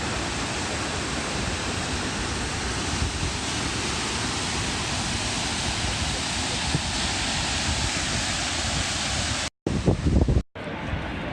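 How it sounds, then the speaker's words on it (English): Dense, steady roar of rushing water from the lower Niagara Falls, constant and loud, with a brief dropout and some handling noise near the end. "There's a waterfall."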